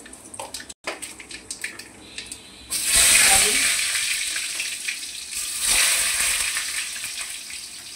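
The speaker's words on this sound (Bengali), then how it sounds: "এখানে আমি সরষের তেল দিয়ে দিলাম, ফোড়ন দিলাম" Black cumin tempering hits hot mustard oil with a sudden loud burst of sizzling, after a few seconds of light clinks and handling noise, then keeps crackling and hissing steadily before swelling again near the end.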